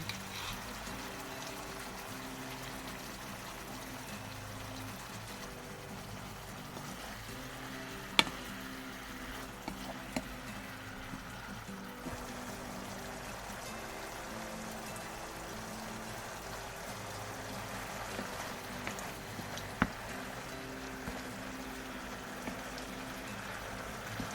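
Eel stir-fried in a pan, then its seasoning sauce bubbling and boiling, a steady soft sizzle and hiss with occasional small pops and clinks, fairly quiet throughout.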